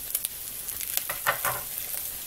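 An egg omelette sizzling in a frying pan just after being flipped, a steady crackling hiss with a few louder spits, close and fairly loud, with no talking.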